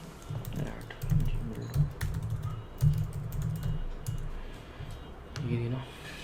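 Account details are typed on a computer keyboard in quick, uneven bursts of soft clicks with short pauses, fairly quiet and close, with a faint voice in the background.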